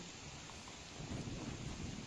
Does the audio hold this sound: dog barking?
no